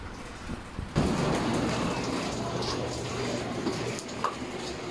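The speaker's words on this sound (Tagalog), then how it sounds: "Ano yung panahon pre, umuulan pre." Heavy rain sets in after about a second and then keeps up a loud, steady, close hiss of drops hitting surfaces, with a few sharper splashes near the end.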